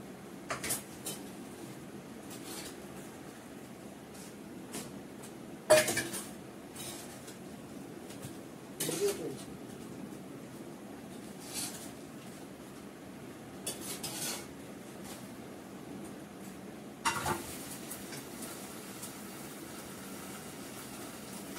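Cooked food is scraped from a metal wok into a pot: scattered sharp clinks and scrapes of utensil on metal, spaced irregularly over a low, steady hum, with no talking.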